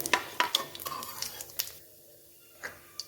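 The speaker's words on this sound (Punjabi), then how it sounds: "ਥੋੜੀ ਜਿਹੀ ਜਵਾਈਨ ਲਵਾਂਗੇ ਉਸ ਨੂੰ ਵੀ ਤੜਕੇ ਵਿੱਚ ਪਾ ਦਵਾਂਗੇ ਚੰਗੀ ਤਰ੍ਹਾਂ ਮਿਕਸ ਕਰਾਂਗੇ" A spoon stirs ajwain into hot tadka in a pan, sending light metallic scrapes and taps in an irregular rhythm with faint sizzling underneath, close and clear, trailing off into near quiet before one last clink.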